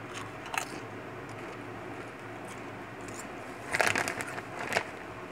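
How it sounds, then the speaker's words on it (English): Honey butter potato chips crunch in close bites, a few sharp crisp bursts over a steady hiss of background noise. "It's just the crunch."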